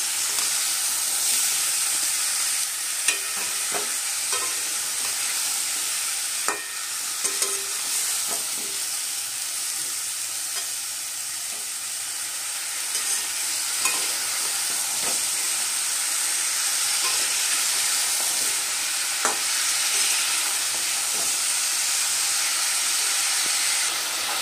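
Vegetables for a Bengali chorchori, pointed gourd, ridge gourd, stalks, potato and eggplant, sizzle steadily in hot oil as they are stir-fried, with a continuous close frying hiss and occasional scraping clicks of the spatula throughout.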